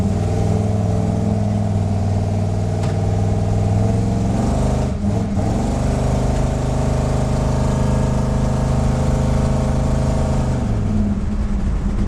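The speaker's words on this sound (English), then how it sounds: "We're going to pull out in the street here in a minute and I'll give it some gas to see what it does." A car's engine is held at full throttle pulling away on a street, a loud continuous drone with rising harmonics, a brief dip around a shift, then climbing again, heard from inside with no talk.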